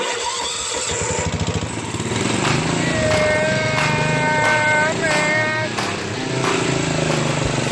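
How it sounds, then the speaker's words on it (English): The engine of a John Deere Tailgater cart is test fired after a few cranking pulses and then runs loud and close with a rough, steady idle and some revving. "I thought it'd be a good idea we do a quick test fire and make sure there's no major issues with this motor"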